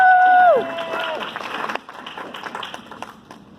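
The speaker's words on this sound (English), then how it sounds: "let's give a round of applause" A falling electronic tone gives way to scattered audience clapping at a 2019 presentation, the applause brief, uneven and moderately loud before thinning out, with a voice heard at the start.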